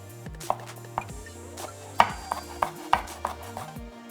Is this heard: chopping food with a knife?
yes